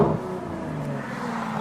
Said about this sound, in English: Oh, the downshift.